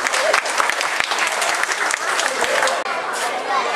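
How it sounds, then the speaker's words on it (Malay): An audience applauds steadily, a dense and loud wash of clapping with faint crowd chatter mixed in, holding at an even level throughout. "Kita bagi tepukan dulu."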